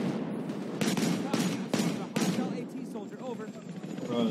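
Rapid bursts of gunfire and booming explosions crackle through a chaotic Battlefield 3 battle, with loud repeated blasts and voices mixed under the din.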